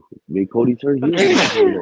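A single sharp sneeze bursts out at the end of a man's short spoken phrase during a podcast conversation, close and loud.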